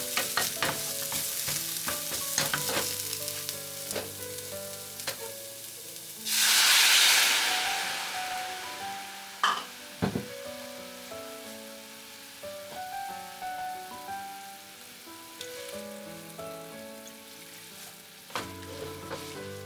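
Softened onions sizzling and hissing in a frying pan while seasonings are added for a vinegared tomato dish, with a steady crackle, scattered stirring clicks, and one louder burst of sizzle midway.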